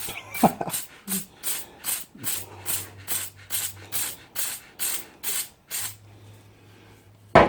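Quick hissing bursts of aerosol brake cleaner spray on a Honda ATC starter motor repeat in a steady rhythm, about a dozen short puffs close by, with brief mechanical hums between them.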